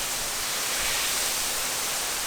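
Fall Creek Falls in Tennessee roars as a steady, dense wash of falling water, a broad hiss-like rush with no pauses and nothing else audible over it.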